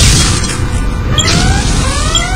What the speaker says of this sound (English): Explosions. It's going boom